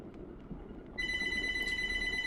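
A phone starts ringing partway through, a steady electronic ring with a sustained tone pattern, heard close over quiet room background.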